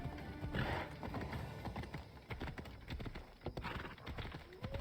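A horse's hooves clip-clop at a walking pace in a video game, the steady footfalls close and prominent over faint ambient background, with no speech.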